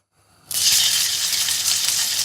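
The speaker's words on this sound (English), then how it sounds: "We've got a sizzle." Atlantic salmon fillet laid skin-down in a hot frying pan, bursting into a loud, steady broadband sizzle that starts abruptly and holds constant and close, with no talk over it.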